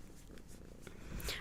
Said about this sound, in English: Oh, there's purrs for everyone.